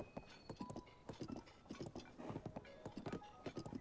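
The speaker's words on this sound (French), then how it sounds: "Ah, des chevaux!" Rhythmic clip-clop of horse hooves in the video game Zelda: Tears of the Kingdom, several horses trotting at a steady pace, moderately close and fairly quiet, with no talking.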